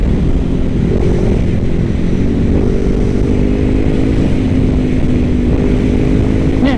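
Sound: sport motorcycle accelerating hard, CBR500R or Ninja 650

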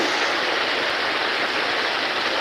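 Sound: rain falling

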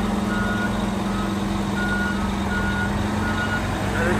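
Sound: Freightliner truck reversing with beeping

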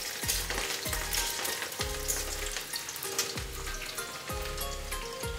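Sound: onions frying in a pan

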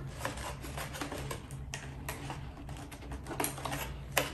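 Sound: cutting rubber bands on a doll box

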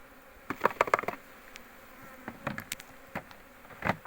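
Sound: honeybees buzzing at an opened hive

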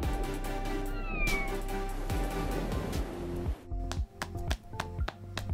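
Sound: cat meowing in a toy cartoon

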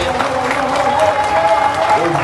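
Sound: audience applause

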